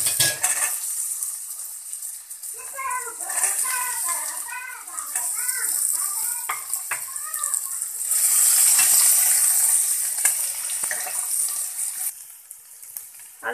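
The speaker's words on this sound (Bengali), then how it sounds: "আলুগুলো প্রায় ভাজা হয়ে এসেছে, হালকা হালকা ব্রাউন হয়ে গেছে" Chopped potatoes fry in a pan with dried red chillies and cumin, giving a steady hissing sizzle while children and other voices talk over it.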